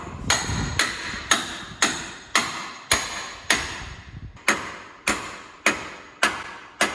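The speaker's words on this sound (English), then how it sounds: "use the hammer to pop that bad boy in there, like really put it in there" Hammer strikes knocking a part into place on a car, a steady series of about eleven sharp metallic blows at roughly even intervals, close and loud with brief ringing decay after each hit.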